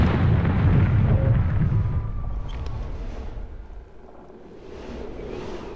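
Cannon fire from an airship battle in the game Air Buccaneers, starting as a heavy, booming blast that fades into a rumbling decay, with faint thuds later.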